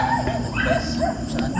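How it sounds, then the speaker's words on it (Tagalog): Dogs bark and yip at night, picked up by a CCTV camera, the barking blurred and mixed into a continuous hum of background noise. "Yung kadungog mo mga iro nga magtahol."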